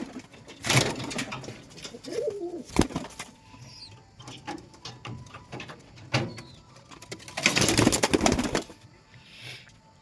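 Pet pigeons kept at home cooing in low repeated throaty calls, close by, mixed with bursts of wing flapping and shuffling noises, no talking.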